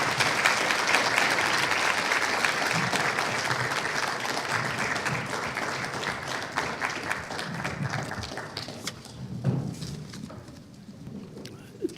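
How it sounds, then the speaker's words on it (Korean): An audience in a lecture hall claps warmly to welcome a university sociology professor to the podium, a dense, steady round of applause that slowly thins and fades toward the end. "여러분 힘찬 박수로 맞이해 주시면 감사하겠습니다."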